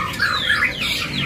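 Javan myna at a songbird kiosk gives harsh squawking calls with rising and falling whistled notes, fairly close and continuous, with no talk over them.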